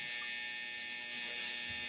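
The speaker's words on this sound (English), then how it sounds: "My dryer." A household clothes dryer running, giving off a steady, unbroken electrical hum and whir at an even level throughout, with no voices.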